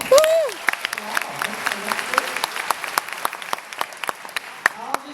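Scattered applause from a film festival audience, sparse individual claps rather than a full ovation, with a brief voice at the start.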